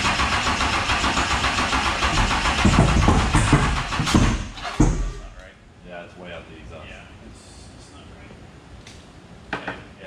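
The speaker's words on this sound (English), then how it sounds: "you can hear it rumbling out the exhaust and it's shooting sparks out" A 10.3L supercharged big block engine, running with late timing, fires up with a loud, rough roar, then cuts out into sputtering exhaust pops and faint rumbles while people talk nearby.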